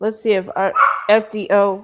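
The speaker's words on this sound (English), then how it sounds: "Excuse my dog is crazy." A pet dog barks sharply once or twice in the middle while someone talks close to the microphone, the bark partly tangled with his speech.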